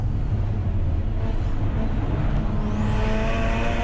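Racing cars including a Mazda RX8 lapping Snetterton circuit, a steady engine roar passing close with a rising whine as one car accelerates near the end.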